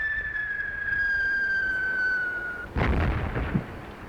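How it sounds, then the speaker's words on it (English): Distant explosions on the horizon in a World War I battlefield film: a long, steady whistling tone gives way to a sudden rumbling blast with a rough, crackling tail. "the explosions on the horizon"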